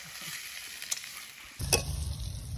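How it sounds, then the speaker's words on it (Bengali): Onions sautéing in a hot pan for a spicy poultry leg curry, a soft sizzle that jumps to a louder, fuller frying hiss as they are stirred, with a couple of sharp utensil clinks. "তারপরে কষিয়ে নেবো এখন পেঁয়াজগুলো"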